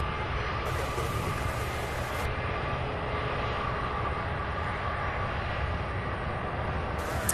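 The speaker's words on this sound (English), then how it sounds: "This A300 is not wasting any time." An Airbus A300 jet airliner roars at the airport, a loud, steady broadband engine rumble that holds without a break, heard from nearby.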